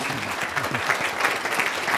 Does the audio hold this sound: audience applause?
yes